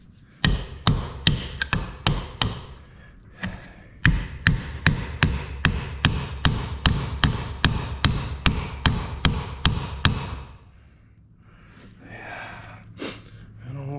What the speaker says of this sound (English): let's tap on the top.